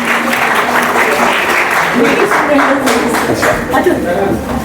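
A seminar audience on women's empowerment applauds to welcome a woman invited to present her research paper: sustained, fairly loud clapping from a room of people, with voices speaking over it.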